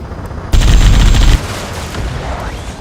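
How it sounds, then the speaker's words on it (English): Gunfire in a video game during a city battle at night bursts out as a loud, dense rattle of rapid shots for under a second, then gives way to a rumbling ambience. "Gunfire and the roar of jets echoing through the streets."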